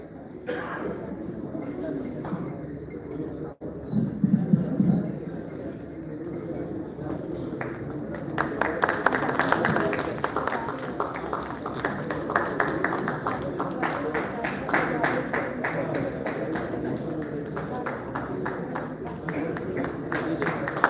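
Audience at an awards ceremony during a poetry festival in Dubai breaking into sustained rhythmic clapping that builds and continues steadily, with a voice speaking over the room.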